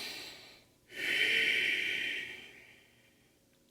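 One slow, close breath during a chair yoga pose, a long airy draw that swells and then gradually fades, heard alone in a quiet room.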